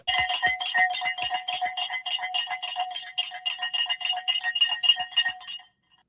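Bell rung to open the stock market, a rapid run of bright metallic clangs repeating in a fast steady rhythm for several seconds before stopping abruptly into silence.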